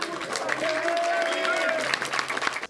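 Audience applause for a wrestling-review show panelist, a dense wash of clapping with a sustained tone and voices running through it.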